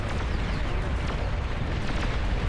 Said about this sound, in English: The plasma volleys, the poor man's auto fire plasma cannon.